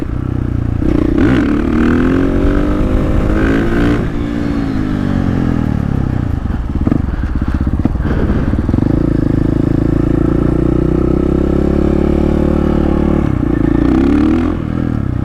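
A 450 supermoto motorcycle accelerates hard through second gear, its loud, close engine note climbing and dipping with several throttle surges and shifts, with wind and road clatter throughout.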